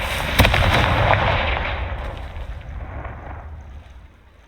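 In Hogwarts Legacy, a Confringo fire spell bursts with a loud explosive boom and crackle that rumbles on and slowly fades away.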